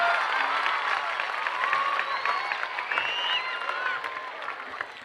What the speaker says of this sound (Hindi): आप तमाम गार्जियन बच्चों के साथ तालियां बजा करके जेबा कुमार जी का तमाम मंच का अभिवादन कर दें